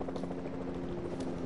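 Helicopter in an online multiplayer shooter video game, a steady droning rotor hum with a strong low tone, continuous and fairly close for the whole short stretch.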